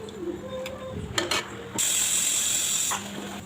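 A mixer grinder grinds roasted coriander seeds in a mixie jar. Clicks and handling noises come first, then the motor whirs loudly for about a second before cutting off.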